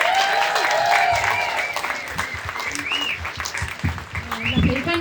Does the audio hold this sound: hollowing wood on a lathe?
no